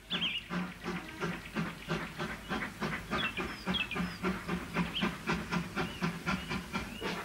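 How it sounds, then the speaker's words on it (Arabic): Cartoon train from a children's animated series turning around to head back to town, with steady rhythmic chugging and hissing steam bursts, moderately loud and close, repeating evenly throughout with no voices. "حول القطار اتجاهه ليعود إلى المدينة مرة أخرى."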